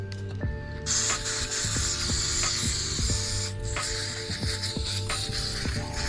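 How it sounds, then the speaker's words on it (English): Repeated short hissing sprays of cleaner onto a Nissan Maxima transmission part, about ten quick bursts in a rhythmic series, with a mechanical pump-like click alongside each one, close and steady. "Spray your part down."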